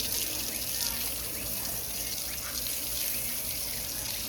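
Tap water runs steadily into a sink while hands are washed under the stream, making a constant dense splashing hiss with no breaks.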